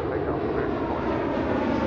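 An airplane roars steadily and loudly on takeoff from runway 28R at Fort Lauderdale airport, a dense continuous jet-engine rumble filling the whole stretch.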